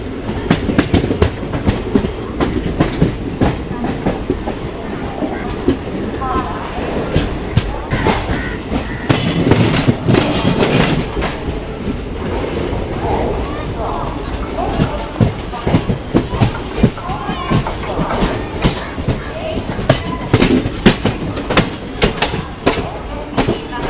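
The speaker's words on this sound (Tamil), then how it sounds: "எந்த ஒரு வண்டின்னு தெரில, ஆனால் வந்து ப்ளூ ஐசிஎஃப்பில் போகுது" A blue ICF passenger train passes close by on the Coimbatore–Chennai line with loud, continuous clickety-clack of wheels over rail joints, rhythmic bursts of clatter and a steady heavy rumble.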